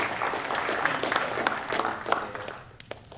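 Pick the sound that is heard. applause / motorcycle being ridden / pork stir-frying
applause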